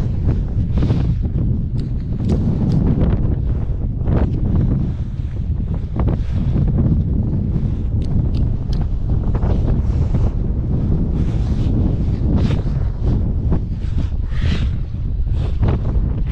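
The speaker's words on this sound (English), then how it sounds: "Feels like it's gusting in pretty hard right now." Strong gusting wind roars across the microphone at a kite surfing spot near rocks and breaking waves, loud and continuous with surf in the background.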